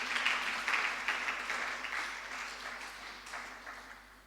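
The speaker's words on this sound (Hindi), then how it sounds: "बजा लो, ताली बजाना है।" A congregation at a Jain sermon during the Das Lakshan festival claps together in a moderately loud burst that gradually fades, with no speech over it.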